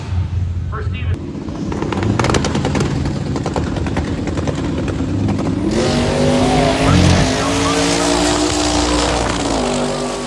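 A Dodge Durango Hellcat drag racing at Sick Summer, its engine roaring loud and near with rising gear-change tones as it accelerates, under a track announcer's commentary.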